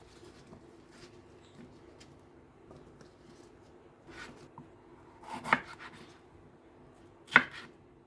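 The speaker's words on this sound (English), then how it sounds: "Let's cut the onion. We cut the onion in cubes" A knife cuts an onion into cubes on a board, with scattered soft taps and then two sharper, louder chops near the end over a quiet background.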